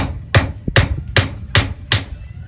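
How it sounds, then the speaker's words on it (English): A blacksmith at a historic site in St. Augustine, Florida, hammers the head onto a hand-forged nail: five sharp, ringing hammer blows at an even pace, loud and close, with a softer tap between the first two. "Take my hammer and just hit the nail on the head."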